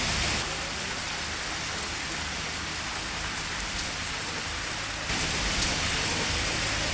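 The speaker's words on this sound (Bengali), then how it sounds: "অবশেষে তুমুল বৃষ্টি নামলো।" Heavy rain pours down at a lakeside resort in Gobardanga, a dense, continuous hiss of drops on surfaces that stays loud and steady throughout, with no voices.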